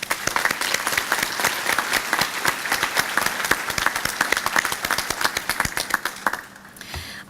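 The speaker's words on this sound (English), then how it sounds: "Please give them a round of applause." Audience applause at the Valley Legacy Awards ceremony, a dense sustained burst of many hands clapping close by, fading out near the end.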